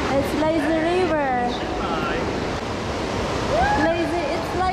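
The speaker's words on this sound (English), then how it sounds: "I think it's lazy river." Water rushes steadily through a hotel lazy river, a continuous loud wash with voices chattering over it throughout.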